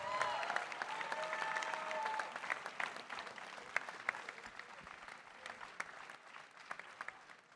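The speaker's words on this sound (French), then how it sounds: "Allez, on peut l'applaudir." Applause for the winner of a gardening trophy: a room full of people claps steadily, loud at first and then thinning to scattered claps, with some faint voices underneath.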